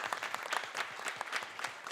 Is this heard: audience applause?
yes